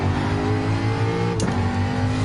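A race car engine in Gran Turismo 7 drones steadily at high revs, with a brief squeal of tires sliding midway; loud and continuous, no talking.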